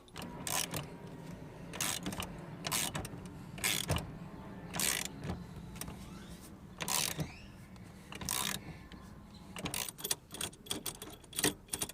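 A steering wheel puller works on a 1996 GMC Yukon steering wheel. It makes quiet, repeated metallic ratcheting clicks in short bursts throughout, with faint mechanical clinks between them.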